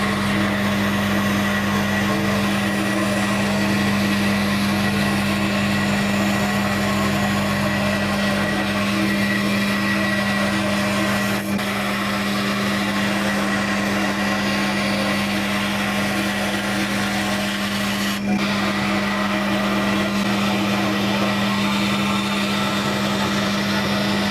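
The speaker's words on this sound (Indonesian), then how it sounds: "berikutnya yang kita coba adalah memotong huruf B ini ya yang bagian luarnya dulu" A scroll saw hums and buzzes at a steady pitch while cutting out a letter B shape, running continuously and loudly, with a few brief clicks and no talking.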